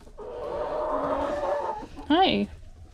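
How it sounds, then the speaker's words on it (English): Two broody hens cluck close by on a farm, a drawn-out throaty cluck followed by a sharper, rising squawk, with a person briefly speaking over them. "2 broody hens."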